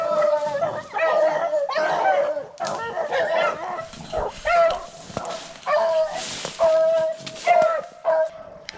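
Beagles bay and yelp in bursts while running a rabbit outdoors, with high excited cries repeating close by in an uneven rhythm and short pauses between.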